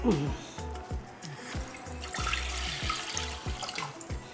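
Water pours quietly into a pot of salt and oil in a steady trickle, faint and close, with a soft rhythmic beat running underneath.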